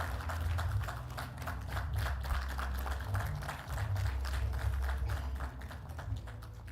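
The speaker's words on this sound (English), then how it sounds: "A big round of applause, please." A room full of people applauds a panelist at a panel discussion on North-East economic growth, with dense, steady clapping that runs evenly throughout with no one speaking.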